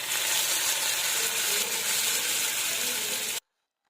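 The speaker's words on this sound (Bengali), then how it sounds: "সর্ষের তেলটা ভালো করে গরম করে নেব এবং কড়াইয়ের চারপাশটা ভালো করে মানে মাখিয়ে নেব বা ছড়িয়ে নেব তেলটা। এবার নুডলসটা দিয়ে দেব কড়াইতে।" Noodles fry in hot mustard oil in a wok, a loud, dense, even sizzle that holds steady at close range for over three seconds and then stops abruptly into silence.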